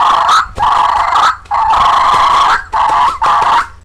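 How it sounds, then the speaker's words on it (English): Two wild turkey gobblers fighting: loud, raspy bursts of squabbling calls in rapid, uneven runs, close and harsh, with brief gaps between outbursts. "those are two gobblers that are actually fighting to set up a social hierarchy"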